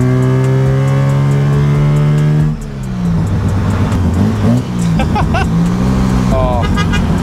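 Mazda 1300 with a 13B bridgeport rotary engine, loud and close, rising through the revs then settling into a rough, raspy drone while driving, with a voice speaking over it.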